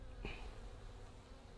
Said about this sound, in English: you can just see from the sheer number of bees in here that it is a really, really strong colony